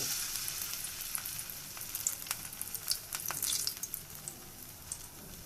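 Pumpkin seed batter fritters frying in hot oil, a steady bubbling sizzle with scattered sharp crackles and pops, close but quiet, and nobody speaking.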